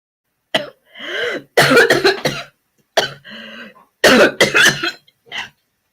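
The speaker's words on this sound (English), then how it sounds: "I just had like a coughing spell" Several bursts of harsh coughing in clusters, close and fairly loud, with short pauses of silence between fits.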